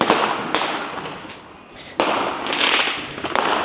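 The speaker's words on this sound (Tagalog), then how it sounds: "May pailan-ilang fireworks." New Year fireworks and firecrackers going off outside, a run of sharp distant-to-mid bangs and crackles with a loud pop near two seconds, over rumbling background noise.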